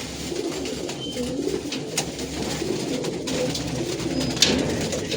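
Pigeons coo steadily inside a loft holding a flock of young pigeons, a low continuous murmur of overlapping calls with occasional wing flutters and a faint higher chirp, close and moderately loud throughout.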